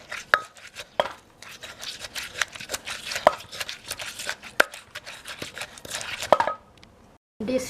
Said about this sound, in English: And then we will add some fish sauce and mix together.